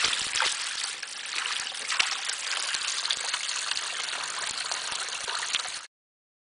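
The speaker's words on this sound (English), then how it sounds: "This example right here is like the Skagit River flowing into Diablo Lake" Skagit River water rushing steadily into Diablo Lake, a continuous broad hiss of flowing stream with no voices, loud and even throughout before stopping abruptly.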